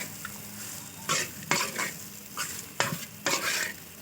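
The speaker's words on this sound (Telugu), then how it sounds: "ఇట్లా బాగా ఫ్రై చేసుకోవాలి" Bread and egg frying in oil in a pan over medium heat, with a steady sizzle broken by several clattering scrapes of a spatula stirring and turning, close and fairly loud, no talk.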